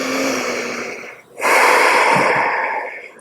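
Deep, audible yoga breathing close up: a long airy exhale, a brief pause, then a strong whooshing inhale that holds and fades, with no talking.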